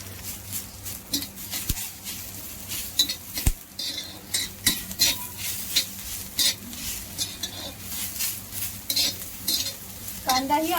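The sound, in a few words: onion roasting in a spoonful of oil, stirred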